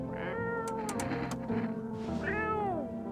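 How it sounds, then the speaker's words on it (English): Cat meowing in the video game No, I'm not a Human, a few drawn-out, close and clear meows with brief clicks between them, heard alone with no talking. "Feed the cat some canned food."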